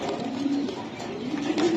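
Racing pigeons, club birds flown in long-distance races, cooing softly and continuously at close range, with low throaty coos rising and falling over about two seconds and no voices.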